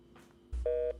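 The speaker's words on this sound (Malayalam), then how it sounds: "കണ്ടാ, നമ്പർ ബിസി." A single short tone of a telephone busy signal heard through a phone line, preceded by faint line noise and a low thump.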